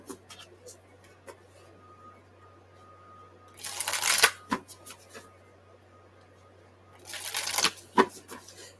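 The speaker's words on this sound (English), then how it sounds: "Three more shuffles." Playing cards are riffle-shuffled twice, each a quick crisp burst of fluttering snaps, with a few soft taps and handling noises between.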